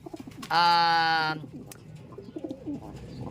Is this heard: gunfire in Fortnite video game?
no